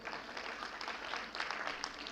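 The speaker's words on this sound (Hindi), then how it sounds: "जोरदार तालियां।" Clapping from an audience at a foundation day ceremony, fairly faint and distant, a sustained patter of hands lasting the whole moment.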